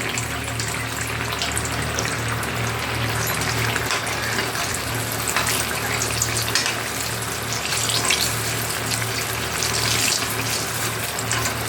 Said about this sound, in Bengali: যে বেগুনগুলো সব একসাথে দিয়ে ভালোভাবে ভেজে নিচ্ছি